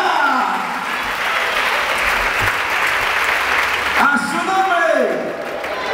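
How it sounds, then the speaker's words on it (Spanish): A church congregation applauds the Lord during a spiritual fasting service, loud dense clapping filling the room while a voice sings or calls out over it, the clapping thinning near the end. "Dale fuerte el aplauso al Señor"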